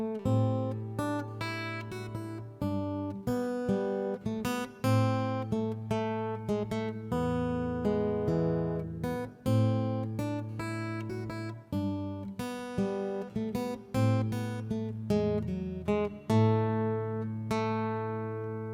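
Fingerstyle acoustic guitar plays What Child Is This (Greensleeves), picked bass notes sounding together with the melody after a pickup note, in a steady lilting rhythm, close and clear with no talking.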